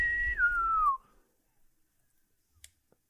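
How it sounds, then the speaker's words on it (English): A single whistled tone rings out on a ship's deck, starting high and sliding gently downward for about a second before cutting off, followed by near silence and a couple of faint clicks. "a whistle sounds"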